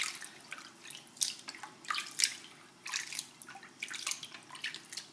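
Cold water drips and splashes from wool fibre being rinsed after dyeing, irregular close trickles and plops that come in bursts over a quiet background, with no talking.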